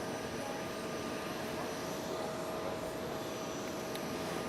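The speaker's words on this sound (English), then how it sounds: "Just wonder if both of those jets are going to overtake it." Jet aircraft at Fukuoka International Airport, a steady distant engine roar holding at an even level from start to finish, heard alone without voices.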